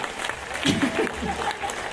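Applause ripples through the audience at a Slovak podcast awards ceremony. It is moderate and fairly close, with scattered claps and a few voices mixed in.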